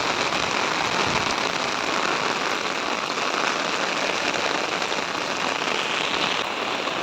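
Heavy rain pours down steadily onto surfaces and a road, a dense, loud, unbroken hiss with no talking.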